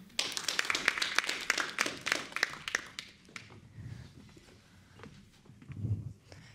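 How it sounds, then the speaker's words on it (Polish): Conference applause comes from a modest audience, a few seconds of scattered clapping close by that quickly dies away into faint shuffling and room noise. "Proszę o brawa."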